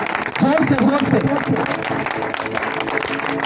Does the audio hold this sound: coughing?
no